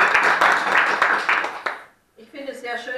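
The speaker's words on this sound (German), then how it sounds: "an der Stelle darf für unsere Referenten mal geklatscht werden" Audience at a German panel discussion on pensions applauding the speakers, dense clapping that swells and fades, then stops abruptly before a voice starts talking.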